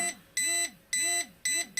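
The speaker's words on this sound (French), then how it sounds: "c'est le nombre de bips différents" A metal detector pinpointer, either a GP-Pointer II or a TC-110, sounding a fast run of loud electronic beeps in a steady repeating pulse, close up and alone.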